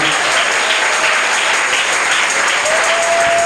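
A church congregation applauds steadily and loudly through the whole stretch, a dense continuous wash of clapping from many hands with no pauses, during a Spanish-language sermon.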